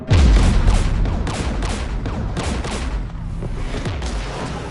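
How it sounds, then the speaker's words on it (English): Sustained gunfire and explosions from a firefight in the Mass Effect 3 Legendary Edition campaign, fought on foot against Geth forces near a jamming tower: a loud opening boom, then dense overlapping shots and blasts rumbling on throughout. "We're taking fire."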